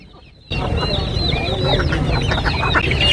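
Chickens cluck busily at the Kottakkal poultry market, where ducks, geese and other fowl are also sold. After a brief quiet start, a dense chorus of close clucking and squawks fills the space over a murmuring market background.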